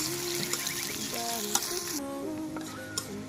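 Onions frying in a pan after a bay leaf goes in, cooked in a village kitchen, with a steady close sizzle and crackle that continues without a break.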